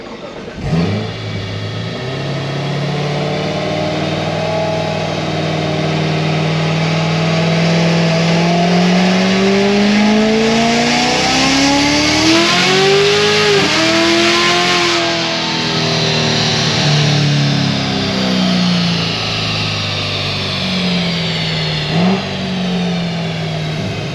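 A 950HP C7 Z06 Corvette accelerates hard with tires spinning, its engine loudly rising in pitch through the gears with brief shift dips, a close, sustained roar over roughly twenty seconds.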